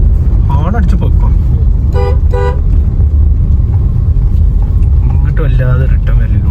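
Car horn honks on a rural road in Kerala toward Karuvarakundu, sounding in two or three clusters over steady road rumble and vehicle noise, close and loud, with people talking nearby.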